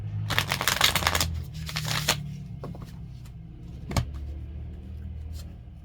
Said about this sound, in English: Cutting the cards.